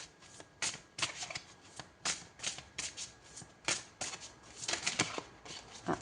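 Tarot cards shuffled and drawn by hand, heard close up as a string of crisp riffling bursts and soft flicks in an irregular rhythm, with no talking over them.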